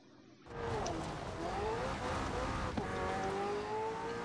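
A LEGO car drives in the racing game Forza Horizon 4, its engine rising in a steady, loud, close drone with pitch climbing through gear changes. A faint thump comes partway through, with no talking over it.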